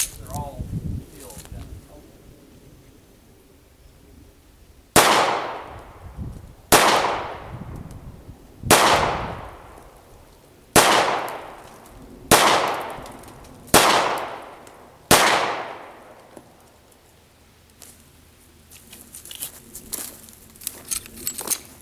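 Seven sharp gunshots from a Kahr K9 pistol fired at steel targets on a range, spaced a second or two apart, each ringing off with a decaying tail, with quieter handling noise before and after.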